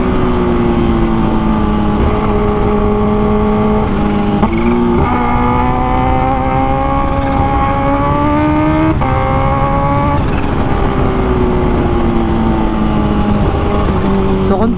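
A Kawasaki H2 supercharged motorcycle engine, comparing 2023 H2 Carbon and 2015 H2, holds a loud, close, sustained high-RPM roar with rising and falling revs throughout.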